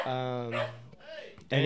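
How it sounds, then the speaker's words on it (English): A dog barks and whines inside a house, mixed in with nearby conversation and a person's voice. "So if you guys hear any barking, just like that."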